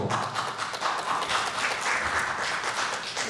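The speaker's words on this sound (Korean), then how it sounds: "박수." Audience applause at a Korean science and technology forum on biohealth and vaccine production, a steady, dense patter of many hands clapping for a few seconds in a hall, heard alone.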